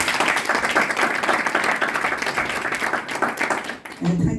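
Audience applause for a guest at a 2023 Congolese community inauguration event in Ireland: dense, steady clapping from a crowd that fills the room for nearly four seconds, then stops abruptly as a voice begins speaking.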